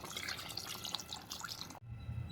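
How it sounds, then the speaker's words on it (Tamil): Water is poured into mutton kulambu masala in a cooking pot, a close, continuous splashing pour lasting under two seconds before stopping sharply, followed by a low, quiet rumble. "நம்ம அளவு தண்ணி ஊற்றிக்கலாம்."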